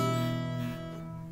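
A quiet acoustic guitar chord variation rings out and slowly decays, soft and close, with no voice over it.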